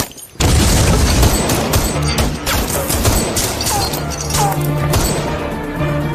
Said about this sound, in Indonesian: Long terluka karena tembakan di bagian lengan dan dikejar oleh Hao.